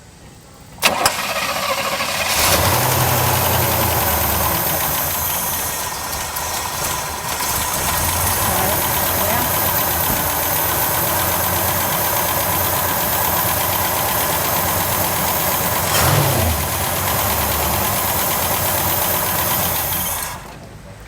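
A classic car at an outdoor show is started up and settles into a loud, steady idle lasting about twenty seconds, with a brief rev partway through and faint wind and crowd noise behind.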